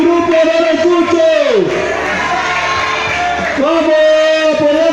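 A group at a campfire event shouting its team name in unison, loud sustained chanting voices rising and falling in two long bursts, close up and filling the space.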